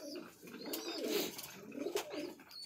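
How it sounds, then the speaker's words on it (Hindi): Fancy breeder pigeons cooing in a cage, several soft, throaty rolling coos that rise and fall in repeated bursts, close by, with faint chirps and a busy aviary background. "कबूतरों की जनाब ये जो गुटक है ना, गुटकों गुटकों"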